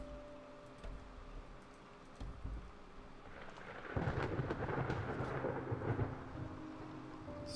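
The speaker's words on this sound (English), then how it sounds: "The storm is getting worse." A worsening thunderstorm in a video game rumbles on with steady rain, and a heavy thunder roll swells loudly midway before fading back into the downpour.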